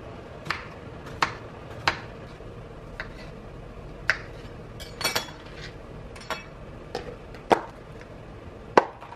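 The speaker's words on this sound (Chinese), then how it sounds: "我们等水开的时候先来切个菜。" A knife chops vegetables on a cutting board in a home kitchen, about a dozen sharp, close taps at an uneven pace with a quiet pause between strokes and no voices.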